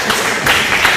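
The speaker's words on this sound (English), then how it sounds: "I don't know why we're applauding that" Short burst of audience applause in a hall at an athletic hall of fame ceremony, dense steady clapping from a crowd with no pauses.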